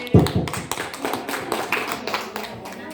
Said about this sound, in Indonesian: kasih tepuk tangan untuk Pak John Heri.